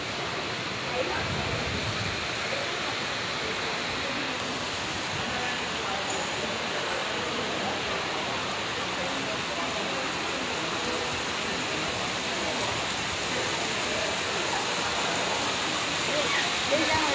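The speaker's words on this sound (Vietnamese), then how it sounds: "Mùa này đầu giờ chiều vẫn đang mưa." Early-afternoon rain pours steadily outside the Independence Palace in Saigon, a dense, even hiss that stays unbroken and fairly loud throughout without pause.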